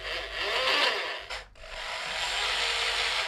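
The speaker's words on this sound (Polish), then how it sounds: "Następnie gwintujemy pod rozmiar sprężynki." A thread for a thread-repair spring insert is cut by hand with a tap turned in a holder, giving a continuous close grinding, rasping sound that pauses briefly midway and then resumes, with no voices.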